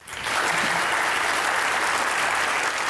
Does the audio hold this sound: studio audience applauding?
yes